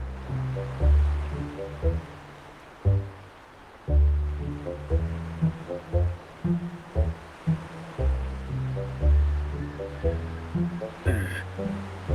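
Gentle waves washing and lapping in a repeating rhythm along a shore in the video game Wuthering Waves, close and soft, with no voices.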